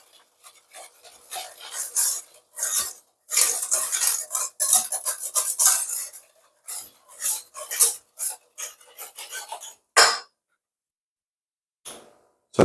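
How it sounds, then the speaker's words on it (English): A spoon stirs sugar until dissolved in a bowl for Jamaican spice bun batter, giving close, irregular bursts of clinking and scraping against the bowl, with brief pauses and a quiet gap near the end. "You just gently stir this until it's dissolved, the sugar dissolved."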